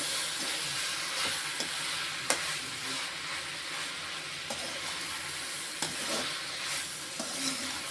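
Chapathi noodles tossed with curry masala powder are stirred in a hot pan, giving a continuous soft sizzle with periodic scraping knocks of the spoon against the pan.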